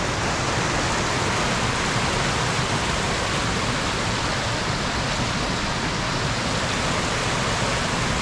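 Dry Creek Falls, a waterfall in winter, pours in a steady, dense rushing hiss that stays constant and fairly loud throughout, with no other sounds standing out.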